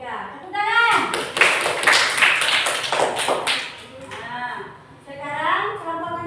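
A classroom of students claps for a group that has just presented, a loud, dense round of hand claps lasting about three seconds, with a teacher's voice talking before and after.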